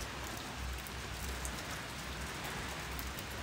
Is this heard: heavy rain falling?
yes